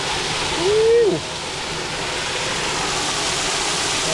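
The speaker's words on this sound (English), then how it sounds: "Oh, it's raining, got to stay in the cave." Even, hissing rainfall fills the whole stretch, heard from a rock cave along an off-track creek in New South Wales, Australia, with a brief low vocal sound partway through.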